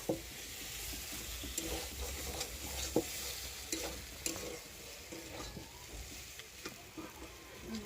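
Potatoes are stirred with spice masala in a pan, giving a steady soft sizzle broken by frequent scraping and clicking strokes of the spoon, close up and fairly quiet, with no talking.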